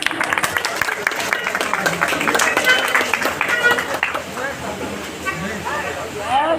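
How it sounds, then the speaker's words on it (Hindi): Crowd at a birha folk music gathering claps along under a man's steady speech, the applause loud at first and then thinning out. "तो वो हाथ ऊपर उठा के ताली बजा दीजिएगा"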